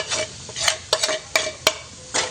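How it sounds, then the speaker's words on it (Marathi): Bay leaf and homemade spice mix stirred in hot oil in a pan, several sharp scraping stirs over a steady sizzle, close and fairly loud. "तेल गरम झालेलं आहे. याच्यामध्ये आता आपण तमालपत्र टाकणार आहोत."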